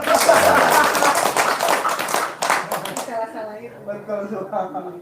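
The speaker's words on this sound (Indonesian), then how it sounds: "Tepuk tangan dong." Audience clapping at an Indonesian talk session, a dense burst of applause mixed with voices that thins out after a few seconds as speech takes over.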